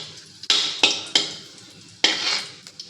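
Dried red chillies tossed into a hot pan, with four crisp clattering scrapes and bursts of sizzling at uneven intervals, close and fairly loud with no talk.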